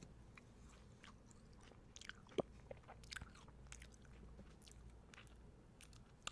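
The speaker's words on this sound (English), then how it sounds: "If you're not chewing on the stem, you're wasting valuable pepperoncini juice." Soft, close chewing on a Trader Joe's pepperoncini stem, with faint wet bites and small crunches scattered across a quiet background and one sharper crunch partway through.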